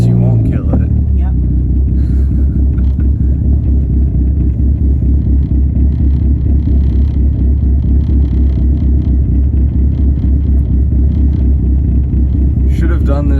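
A big-turbo Dodge SRT4 car droning with a steady, loud engine and road rumble from inside the cabin as it drives, while people talk over it.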